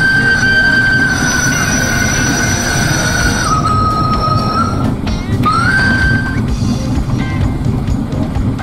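A sugarcane lorry train, fully loaded with cane, rolls loudly along the rails with a constant heavy rumble, steady clatter and sustained high wheel squeals that drop briefly and then return.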